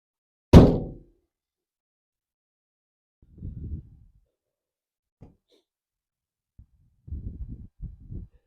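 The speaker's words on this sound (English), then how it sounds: "I close the door." A truck door slams shut during a commercial vehicle pre-trip inspection, one loud, close thud that fades quickly, followed by faint footsteps and soft scuffing in an otherwise quiet space.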